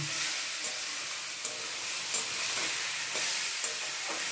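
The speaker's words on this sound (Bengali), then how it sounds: "এখন চাল কুমড়ো তো নাড়া দিচ্ছি" Ash gourd being stirred in a hot cooking pan, a steady close sizzle and hiss with soft scraping strokes of the spatula repeating every second or so, no voices.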